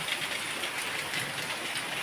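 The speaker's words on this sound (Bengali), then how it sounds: "আর এখন বৃষ্টি পড়ছে" Steady rain patters as a dense, even hiss with no pauses, heard faintly and without any voices.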